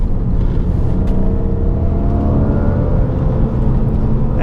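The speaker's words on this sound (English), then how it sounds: "now you guys can see the awesome V8 swapped E30" A V8-swapped BMW E30 drives a mountain road, its engine droning steadily and loudly, climbing in pitch as it pulls through the run.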